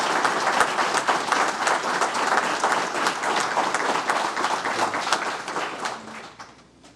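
Crowd at a fire rescue pinning ceremony applauds a fire department unit with lively, crisp clapping that holds strong for several seconds, then fades out.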